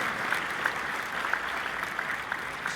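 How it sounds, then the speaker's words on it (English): A small crowd at a political party dinner claps steadily, the applause even and sustained without cheering. "give him a round of applause"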